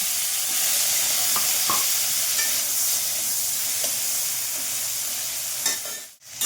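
Tomatoes frying in oil in a pan, a continuous bright sizzle with occasional small pops and a soft scrape near the end.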